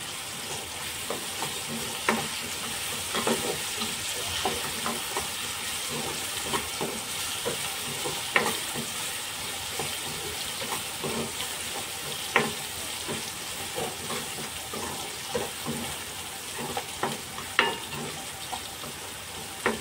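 Onion and ginger-garlic paste frying in oil for a Kolhapuri chicken dish, a continuous crackling sizzle with repeated spatula scrapes and stirs, close and steady with no talking.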